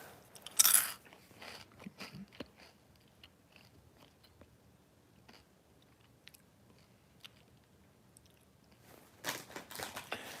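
Crisps being chewed from a big bag, with close crunchy bites and chewing scattered through the clip, plus a louder rustling burst near the start and again at the end, with no talking.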